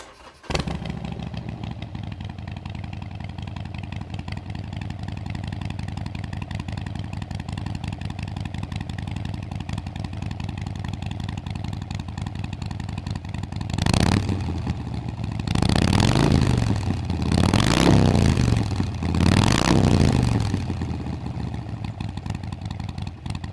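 A motorcycle engine fitted with 21301 Quiet Baffles starts and idles with a steady, muffled chugging, then revs sharply three or four times near the end before settling back to idle, heard close up in a workshop.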